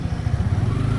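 Motorcycle engine on a high-altitude Ladakh bike ride, refuelled with petrol and being started, chugging and sputtering steadily at close range with no voices.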